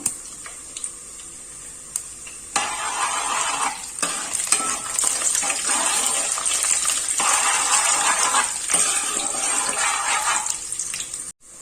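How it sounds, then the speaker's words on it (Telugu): Urad dal, chana dal and cumin seeds tempering in hot oil in a pan, a close, steady sizzle and crackle that starts abruptly and carries on for several seconds with occasional stirring. "ఇప్పుడు పోపు దినుసులు వేసుకుంటున్నాను. ఆవాలు వేయలేదు నేను, కొంచెం మినప్పప్పు, పచ్చెనపప్పు, జీలకర్ర వేసాను."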